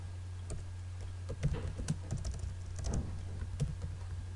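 An AutoCAD command, L then Enter, is typed on a computer keyboard as a quick run of soft, close key clicks in an irregular rhythm over a steady low hum.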